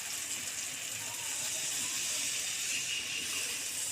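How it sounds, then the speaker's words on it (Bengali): Water poured into a hot pan of spiced, fried-down curry gives a steady, even sizzling hiss that holds without a break, moderately quiet and close, with no voices. "তাই আমি একটু জল দিলাম।"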